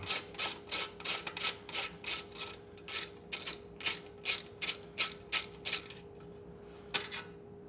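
A 5mm Allen key unscrews a heat shield screw on the stock exhaust of a 2024 Triumph Bonneville Bobber, giving a close, steady run of about a dozen sharp ratcheting clicks, then a short pause and one last click.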